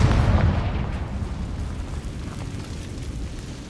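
A Confringo fire-spell explosion in the game Hogwarts Legacy, cast inside a hideout of goblin loyalists: a loud, deep boom at the start that fades into a rumbling roar lasting several seconds.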